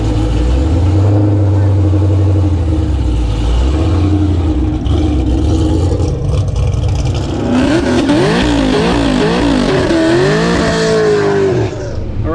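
A car accelerates hard in a nighttime drag race. A loud, continuous engine roar fills the clip, and its pitch sweeps up and down repeatedly in the second half.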